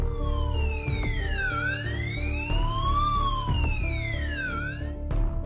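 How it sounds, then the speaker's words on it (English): A gas release alarm siren at a petrochemical plant in Saudi Arabia slowly rises and falls in pitch, a long wavering wail repeating twice, loud and steady with a low hum underneath. "Gas release siren."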